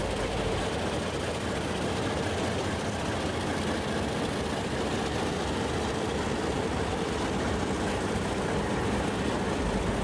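Diesel locomotives 44211 and 4001 depart Central station hauling an exhibition train of Southern Aurora carriages, a steady loud engine drone and rumble with no breaks, heard from fairly close by.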